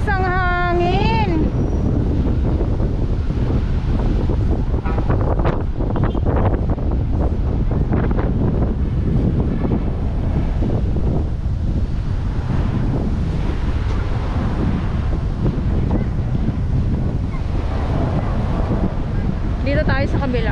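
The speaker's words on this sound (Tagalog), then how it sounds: "Ang lakas ng hangin." Strong wind gusts across Manila Bay and buffets the microphone in a loud, constant roar, with waves churning underneath and brief voices near the start and end.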